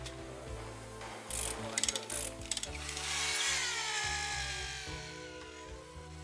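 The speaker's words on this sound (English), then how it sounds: "Attaching the thick planks calls for powerful clamps and hoists." Powerful clamps and hoists ratchet while thick wooden planks are fitted to the hull of the East Indiaman Götheborg replica ship, with a quick burst of sharp clicks followed by mechanical whirring and clatter.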